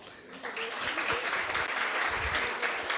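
Audience at an author's book event applauds a reader, a full, steady round of clapping that holds evenly at close range for the whole stretch with no voices over it.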